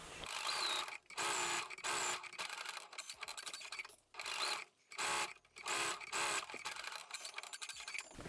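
A sewing machine stitches stitchable boning onto the seam allowance of a wedding dress, running in short close bursts of rapid whirring separated by brief pauses.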